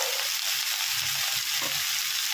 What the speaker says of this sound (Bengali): বন্ধুরা দেখছো আমি কিভাবে কলমির শাকটা ভাজছি।